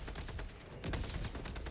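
Rapid bursts of gunfire crackle in quick succession, dense and continuous, with heavy low thumps, from combat in the video game Helldivers 2 on its highest difficulty.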